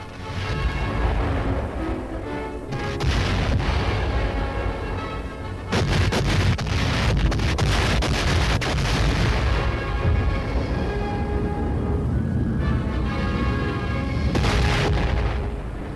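Heavy naval and air bombardment of Okinawa during World War II, a loud continuous roar of rumbling booms and blasts layered over one another with no pauses, with no voices.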